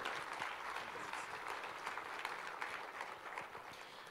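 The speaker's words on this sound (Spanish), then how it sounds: "Vamos a dar un aplauso." A church congregation applauds steadily, a dense wash of clapping that stays fairly even before easing slightly at the end; heard from a distance.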